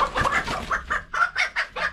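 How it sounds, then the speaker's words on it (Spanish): Chicuya hens kept in Guatemala cluck in a quick irregular series of short calls, close and fairly loud, with no talking over them. "cómo le llaman ustedes a este tipo de gallinas, ¿ve? Que nosotros le llamamos chicuya"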